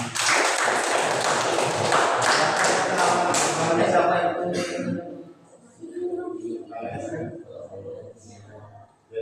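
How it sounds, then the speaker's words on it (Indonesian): A classroom of students claps hands together in a loud burst of rapid applause that fades out midway, followed by quieter room noise and scattered voices. "Masih tepuk tangan."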